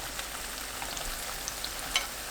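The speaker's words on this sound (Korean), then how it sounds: "반죽에 한 번 더 넣어 반죽옷 입히고 기름에 한 번 더 튀겨주세요." Battered deodeok and perilla leaf fritters deep-frying in oil, a faint steady bubbling crackle with a small clink near the end.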